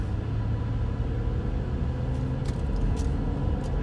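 Interior of a big truck camper driving through a U-turn, a steady loud low engine and road rumble throughout with faint light rattles near the end, no talking.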